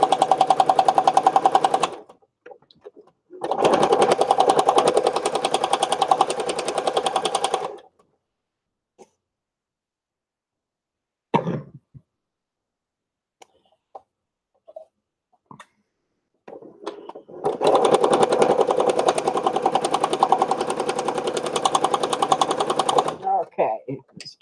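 Machine sewing on a stickpin lace book: two loud bursts of steady motor-driven stitching at the start, a long quiet pause with a few small knocks, then another sustained run of stitching near the end.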